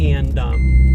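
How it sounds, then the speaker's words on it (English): A car's seatbelt reminder sounds as a steady electronic beep tone inside the vehicle, heard close beneath someone speaking. "I'm sorry for the beeping, but that's my car asking me for my seatbelt"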